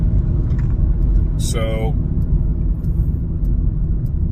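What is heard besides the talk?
car driving on the freeway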